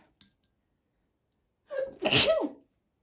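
A single sharp sneeze after a brief quiet pause, preceded by a sudden inhaled build-up, close and loud.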